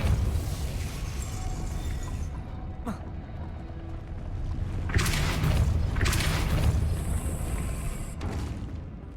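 Spell blasts in the Hogwarts Legacy video game, with several booming bursts and whooshing impacts over a rumbling background, some sharp and bright, heard amid ongoing game ambience.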